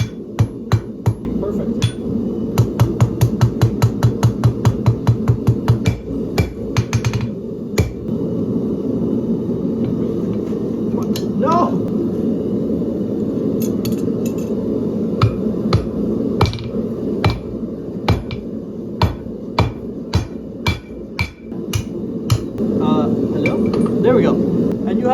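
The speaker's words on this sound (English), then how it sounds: "get the material really hot, put it through there, smash it in, and then we should have our rivets." Hand hammering of hot metal into rivets for blacksmith tongs, rapid ringing blows at first, then irregular sharp strikes over a steady forge roar, close and loud, with a voice speaking briefly.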